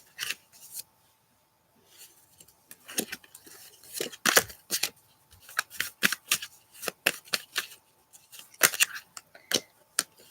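Tarot cards being shuffled by hand in a quiet room, a series of crisp riffling and slapping bursts in irregular clusters, close and fairly sharp with brief pauses between.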